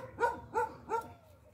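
A dog barks three times in steady succession, fairly close and moderately loud, with a brief fading tail after the last bark.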